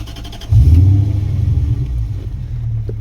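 A Lexus 3UZ V8 swapped into a Nissan 1400 bakkie starts with a sudden loud low rumble, then settles into a deep, slightly uneven idle close by.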